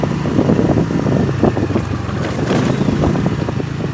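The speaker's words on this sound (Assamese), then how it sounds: "তো বাইকত গৈ আছোঁ" Engine drone and buffeting wind noise from riding a motorbike past tea gardens near Golaghat, Assam, continuous and close, with no talking.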